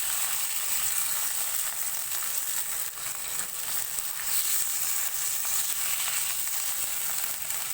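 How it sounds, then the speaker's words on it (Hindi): Bone-in chicken, about 300 grams, fries in hot oil in a pan, giving a loud, steady, close-up sizzle and crackle with occasional stirring scrapes and no talking. "चिकन को ऑयल में थोड़ा सा फ्राई करेंगे।"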